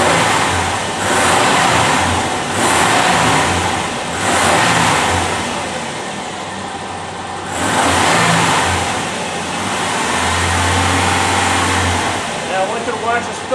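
A car engine revs repeatedly in park during a limp-mode test, each rise swelling loudly and close before settling, with a voice talking over part of it.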